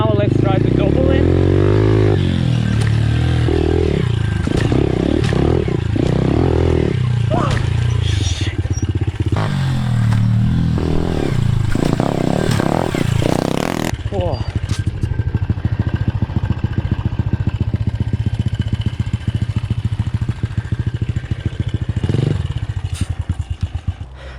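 A pit bike rides laps on a backyard dirt track, its small engine revving and buzzing up and down with clatter and scraping, loud and close, while a voice talks over it.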